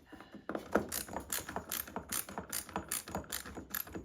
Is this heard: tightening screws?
yes